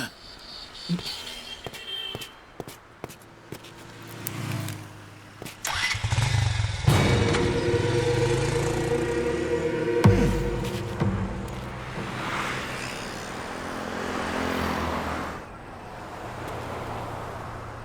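A motorcycle engine runs on a road in a dubbed Hindi film, starting after scattered clicks and knocks, then a loud steady drone with rising and falling revs that fades somewhat toward the end; no clear talk.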